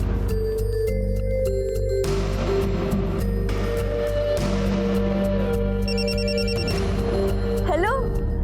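A telephone rings repeatedly over a loud, busy background of music and other sound, the rings coming in a steady repeating pattern.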